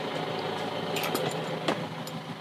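A steady, low engine idles with a muffled mechanical rumble and light rattling ticks, heard from a short distance without voices.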